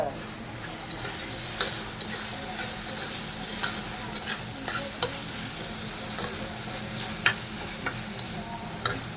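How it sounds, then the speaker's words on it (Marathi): Food being stir-fried in a pan in a home kitchen, a steady close sizzle broken by repeated scraping stirs of a spatula at an uneven rhythm. "तर अशी मस्त परतून घ्यायची"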